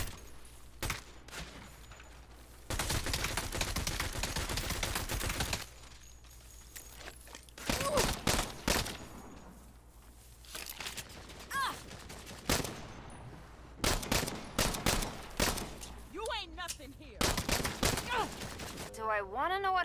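Gunfire crackles through a fight in the video game Saints Row, with dense bursts of rapid shots and volleys that stop and restart over about twenty seconds, broken by short pauses and mixed with other game sounds.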